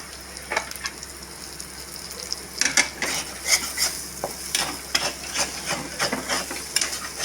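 Paruppu usili sizzles in a frying pan while a spoon scrapes and stirs it, giving repeated close metallic scrapes and clinks over a constant soft frying hiss.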